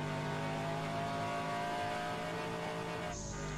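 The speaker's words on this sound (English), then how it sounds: "listen to that engine roar as it passes through the track of Silverstone in Great Britain" A GT1 race car engine roars past at Silverstone with a loud, sustained, dense drone that cuts off abruptly near the end.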